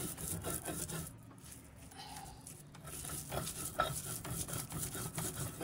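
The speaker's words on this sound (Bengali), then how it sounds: "শিলপাটায় বাটা হচ্ছে ভর্তাটা।" Bharta paste is ground by hand on a stone slab (shil-pata). Quiet, close, repeated rubbing and scraping strokes follow one another in an uneven rhythm, with no talking.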